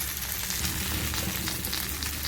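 Paturi, fish or filling wrapped in turmeric leaves, fries in oil in a pan, giving a dense, steady crackling sizzle close by with no voices.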